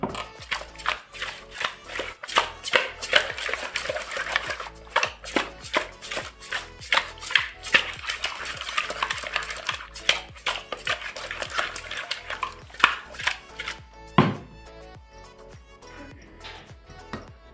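A spoon works spices and half a spoon of pickle powder together for a Katla fish curry, giving a dense run of quick scraping and clinking taps, fairly close and steady, with a louder knock near the end.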